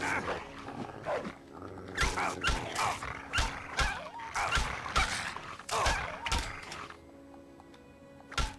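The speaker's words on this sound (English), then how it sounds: "Let's beat this dog with a bat" A hostile dog growls and snarls while attacking in the video game Fallout 3, as the player beats it with a bat. Repeated rough, loud bursts of growling and barking come in quick succession over a low background.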